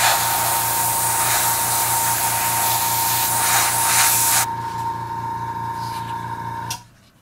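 An airbrush mists paint onto a Sturmgeschütz III Ausf B scale model, a steady close hiss that cuts off partway through, leaving a quieter hiss that fades out.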